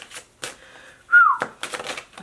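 A person whistles a short, bright note that slides downward, loud and close, with soft shuffling and tapping sounds before and after it.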